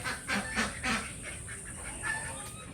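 Geese and smaller ducks calling together outdoors on a palace estate, a loose series of honks and quacks spread across the clip at moderate distance, with no voices.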